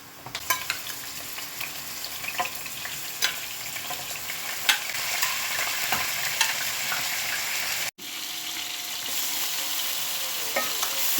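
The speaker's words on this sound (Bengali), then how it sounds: "চিকেন ভাজবো।" Chicken pieces frying in a pan with onion, bay leaf, cinnamon and cardamom for yogurt chicken biryani, giving a steady, dense sizzle. Scattered clicks of stirring run through it, with one brief dropout near the end.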